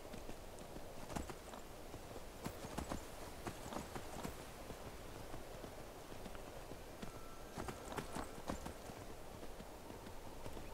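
Horse hooves clip-clop across the ground in the video game Skyrim, a steady run of close hoofbeats with no talk.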